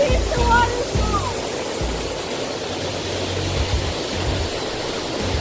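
A waterfall in White Oak Canyon, Shenandoah National Park, pours with a steady broadband rushing hiss, close and constant, while someone speaks briefly at the start.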